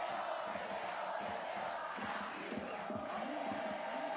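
Stadium crowd chanting in rhythmic unison at a beach volleyball gold match final between Brazil and the Netherlands in Brasília, a dense steady roar of many voices with repeated chant pulses.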